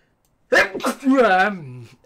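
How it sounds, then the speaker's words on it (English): A single close sneeze bursts out sharply, followed by a drawn-out voiced exhale. "Sorry, that was a sneeze"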